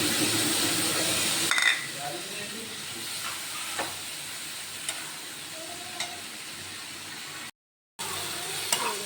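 Spice paste sizzles in hot oil in a pan with potatoes and eggplant, a steady close hiss with occasional stirring clinks and scrapes, and a brief gap before the frying noise returns.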